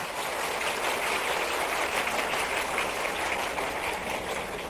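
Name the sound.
audience applause for students at school event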